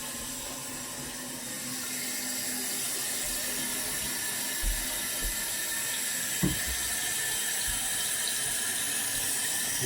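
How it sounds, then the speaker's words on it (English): Water steadily filling an American toilet tank, a continuous close rushing hiss that runs alone from start to finish with a couple of faint knocks partway through. "You see now that water is filling up."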